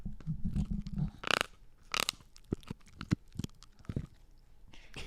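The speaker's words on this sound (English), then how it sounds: "That's her chewing on her rawhide." A puppy gnaws on a rawhide chew close by, giving irregular crunchy bites and wet chewing noises in short bursts with pauses between them.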